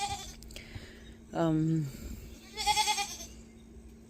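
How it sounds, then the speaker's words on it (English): Goats on a farm bleat close by in the morning, one loud wavering bleat and then a shorter pulsing one, with a person's voice between them. "All the goats are yammering."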